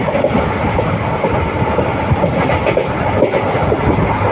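A passenger train running at high speed between Karur and Puducherry, a loud, steady rumble with faint rhythmic clatter heard from inside the carriage, continuous throughout with no talking.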